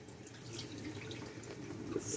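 Rice is rinsed in running water at a sink, giving a steady, close wash of splashing and trickling with no one speaking.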